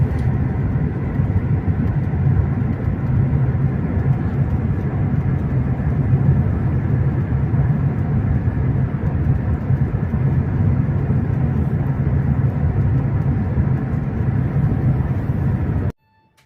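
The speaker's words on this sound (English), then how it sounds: "This is what moving at 350 kilometers an hour or 217 miles per hour looks like from a train." A high-speed train runs at 350 km/h between Shanghai and Beijing, heard from inside as a steady loud low rumble and roar that continues unbroken until it cuts off at the end.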